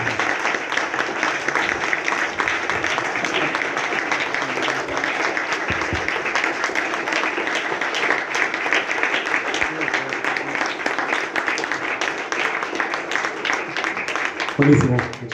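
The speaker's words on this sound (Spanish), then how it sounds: "voy a pedir un fuerte aplauso" Sustained audience applause at a book presentation in Peru, a steady wash of many hands clapping from a seated crowd, continuing for around fifteen seconds with a voice entering at the very end.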